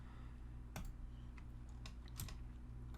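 Computer keyboard keys tapped while working in CAD software, a few sharp separate clicks spread over a few seconds above a steady low electrical hum, fairly faint and close with no talking.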